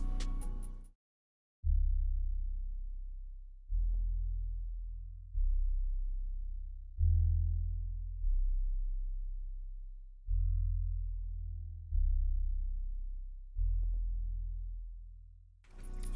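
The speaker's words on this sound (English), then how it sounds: "the final thing I added was this bass" A deep Blister bass from the Tundra kit, EQ'd in Serum with highs rolled off, pulses in a slow rhythm of about eight smooth sub-bass notes, each decaying softly, heard alone.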